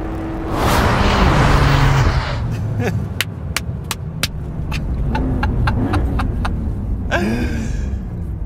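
A Porsche 911 992.2 GTS hybrid accelerates hard with a loud rushing engine roar that eases into a steadier drone, broken by sharp clicks and brief rising tones, with faint voices in the cabin.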